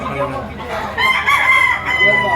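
Roosters crow over a busy background of clucking fowl at a livestock auction market in Lipa, Batangas, the long calls rising loud and close in the second half amid general crowd noise.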